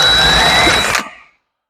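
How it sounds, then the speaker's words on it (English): A loud whining power drill runs steadily into a seized suspension bushing, then cuts off abruptly as the drill bit breaks and winds down to silence. "broke the drill bit."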